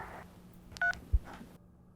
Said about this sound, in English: Any other numbers you want to dial?